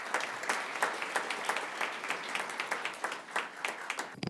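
Ceremony audience at a law school moot court competition closing event applauding to welcome a speaker, dense steady clapping from a sizable crowd in a hall, moderately distant, fading at the end.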